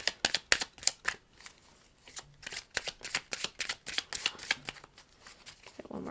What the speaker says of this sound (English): Get 1 more shuffle and see if you get anything.